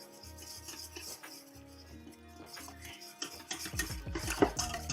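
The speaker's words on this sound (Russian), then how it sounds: "Размешали, разбили все комочки, чтобы все однородно было." A whisk or spoon stirs milk and flour in a bowl to beat out lumps for yeast dough, rhythmic scraping strokes against the bowl, then faster clinking and rattling near the end, close up with no talk.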